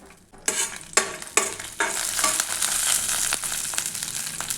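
Small chopped cashew pieces fry in ghee in a kadai, giving a steady close sizzle broken by a few sharp scraping stirs near the start.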